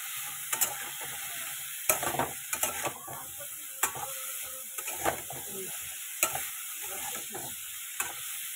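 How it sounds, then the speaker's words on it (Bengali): Vegetables frying in a pan with turmeric and salt, a soft steady sizzle broken by repeated sharp scraping and clinking strokes of a spoon stirring, close and moderately quiet. "তো এটা ভালো মতো আগে ভাজা হোক।"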